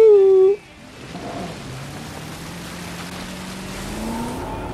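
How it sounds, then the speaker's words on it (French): An amphibious Jeep driving in a Jurassic Park video game DLC, a droning engine whose pitch rises slowly under a hiss, after a short loud tone at the start. "Alors vous voyez c'est une voiture amphibie, c'est plutôt pas mal hein"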